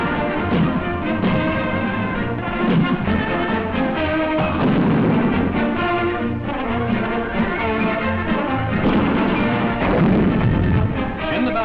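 Rifles and Bren guns firing at army range practice in 1945, a dense, loud, continuous barrage of overlapping shots and booms with no pauses.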